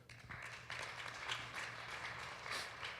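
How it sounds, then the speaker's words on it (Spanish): Applause from a church congregation at a Sunday service, a steady wash of clapping that swells and dips over about three seconds, moderately distant with a low hum underneath. "Den un fuerte aplauso al Señor."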